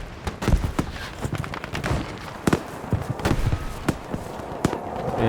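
Rapid, sharp sniper gunshots in the video game Battlefield V crack repeatedly at an irregular rhythm, loud and close, with echoing booms in between.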